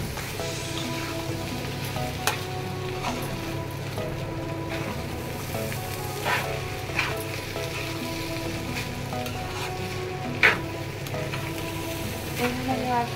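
Boiled, spiced chicken frying with onions in a pan, a steady moderate sizzle running throughout with occasional clicks and spatula knocks.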